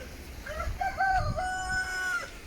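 A rooster crows once, a loud drawn-out call with rising and falling pitch, fairly close against a low background rumble in Schöllkrippen, Bavaria; no one speaks.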